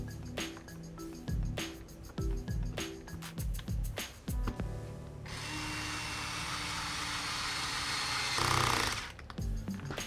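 A power screwdriver drives screws back into an RC car during reassembly after a Boca bearing swap, a run of short, loud whirring bursts followed by a longer continuous drive, close up.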